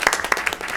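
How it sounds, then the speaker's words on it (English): Brief applause at a school district board meeting, a short burst of claps from the room that is fairly faint and ends within a second. "I think he does deserve a round of applause."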